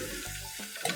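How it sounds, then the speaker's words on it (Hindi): Water from a glass is poured into a pan of browned masala for potato and pea curry (aloo matar shorba), a steady close splashing gush that settles into a brief sizzle near the end. "और इस स्टेज पे जो है हम इसमें 1 गिलास ये पानी डाल देंगे।"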